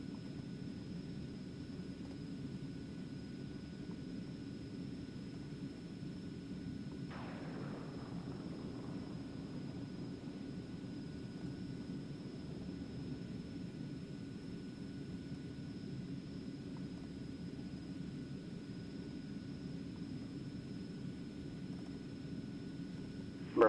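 A small aircraft's engine runs at full power in steady flight over mountains, a constant low drone with faint tonal hum and no talk.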